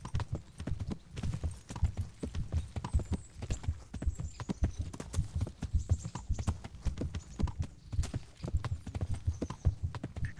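Horse hooves clip-clop at a steady, unhurried riding pace in the medieval video game Kingdom Come: Deliverance, with rhythmic thuds continuing the whole time and a faint whinny-like tone drifting over them.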